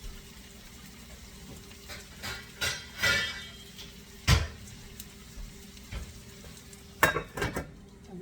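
Small onions stirred and gently sizzling in a pot of braised beef short rib, with soft scraping and clinks of utensils against the pot and a few louder knocks, no one talking.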